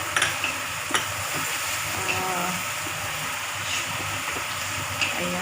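Pork spare ribs stirred in a pot with dark soy sauce and sugar for a Chinese-style stew, a soft simmering hiss with a few light utensil clicks against the pot.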